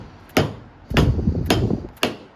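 A small hammer taps a bushing into a screen printing press part four times in a steady rhythm, each a sharp close metallic knock with a short ring, with no talk.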